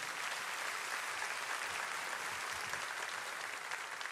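A church congregation applauding together, a dense and even wash of clapping that holds steady for a few seconds, with a faint murmur of voices underneath.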